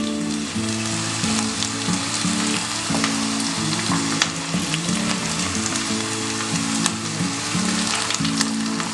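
Ginger and green chili sizzle steadily in hot oil in a pan for gobi manchurian, a loud, continuous frying hiss with a low hum underneath throughout.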